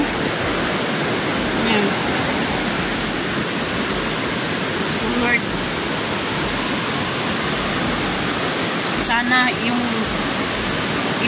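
Strong floodwater roars through the Piñan river, a loud continuous rushing wash like a waterfall that never lets up, with someone speaking briefly over it.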